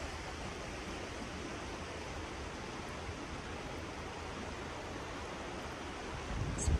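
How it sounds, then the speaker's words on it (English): The Dan River flows near Mount Airy, North Carolina, a steady broad rushing hiss of moving water heard faintly and evenly throughout, with a brief louder rustle at the very end. "Oh, listen to the water."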